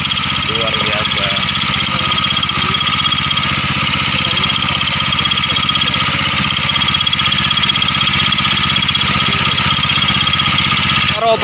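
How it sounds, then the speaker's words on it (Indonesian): A homemade gold panning machine engine runs steadily on a river bank at Kalialas River in Kutacane, Aceh, a continuous mid-pitched drone with rattling vibration filling the whole stretch under a voice. "bisa merakit mesin mendulang emas di Sungai Kalialas ini"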